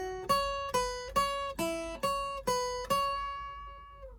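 An electric guitar plays a beginner lead exercise of seven clearly picked single notes at an even, unhurried pace, each ringing briefly before the next, the last one left to fade, close and fairly quiet.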